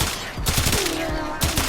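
Rapid gunfire from the Aksomati Prime in Warframe, a fast burst of sharp repeated shots in quick rhythm, loud and close, pausing briefly before another burst.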